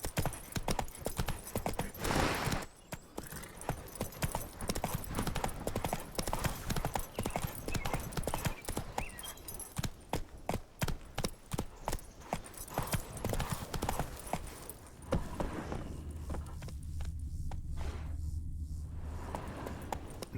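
Roach the horse gallops in The Witcher 3 video game, hooves clip-clopping in a fast, steady rapid rhythm close up, continuing throughout and easing toward the end.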